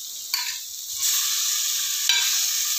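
Chopped tomatoes go into a pan of cooking capsicum for pav bhaji, setting off a loud, steady sizzle that swells in two bursts as the pieces land, with stirring scrapes and no voices.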